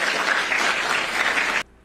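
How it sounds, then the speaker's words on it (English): An audience claps in a played recording, a dense, loud burst of applause that holds steady for about a second and a half and then cuts off abruptly to near silence. "A bunch of Jews clapping for him."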